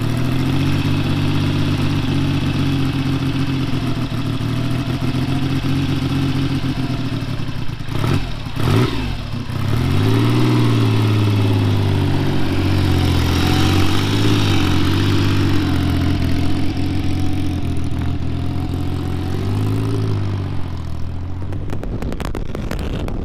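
A motorcycle engine starts and settles into a steady, loud idle close by, with a brief rev or surge near the start and a low, continuous mechanical hum throughout, no talking.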